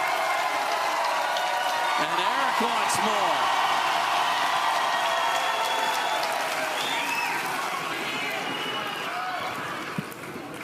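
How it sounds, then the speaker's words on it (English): Pickleball match crowd applauding and murmuring with oohs at an outdoor pro event, steady clapping and crowd noise throughout, fading slightly near the end, with a commentator talking over it. "The oohs and the ahs, and the crowd wants more"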